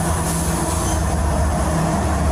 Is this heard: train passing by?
yes